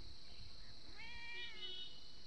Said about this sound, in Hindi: ये है हमारी शिकारी बिल्ली, ये दिन के 3-4 चूहे मार ही देती है